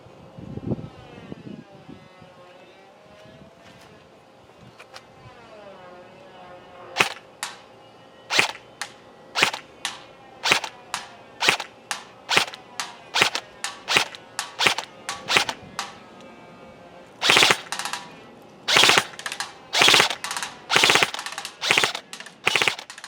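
An EMG Salient Arms GRY airsoft AEG rifle fires on a 100-foot range: a quiet mechanical hum, then sharp single shots spaced about a second apart, building into rapid bursts of close, loud snapping fire.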